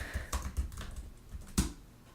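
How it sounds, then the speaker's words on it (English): Someone types on a computer keyboard, a quick irregular run of close, soft key clicks with a sharper, louder tap near the end, and no voices. "There are going to be some annoying typing sounds because I'm going to figure it out."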